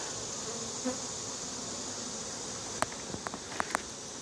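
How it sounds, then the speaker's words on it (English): Honey bees at an open hive frame full of brood in late summer, giving a steady, moderately loud buzzing drone throughout, with a few soft clicks and knocks near the end. "Make sure the bees are making enough honey to get themselves through the wintertime"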